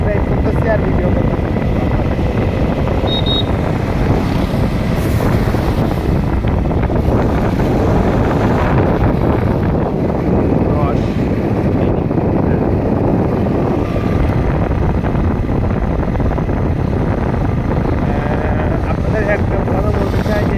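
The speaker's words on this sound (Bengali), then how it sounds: "আমি বাইক রাইড করতেছি আর একটু ভিডিও করতেছিলাম" Wind roars continuously across the microphone on a motorbike ride after rain, a loud, steady low rumble with engine drone underneath and a voice talking faintly through it.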